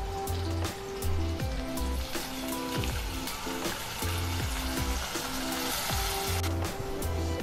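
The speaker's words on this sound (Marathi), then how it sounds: "हिरवी मिरची हे छान 1 मिनिटभर परतून घेणार आहोत।" Green chilli and spring onion greens sauté in a pan with a steady, dense sizzle close by, broken by occasional stirring scrapes, while a background tone drones underneath.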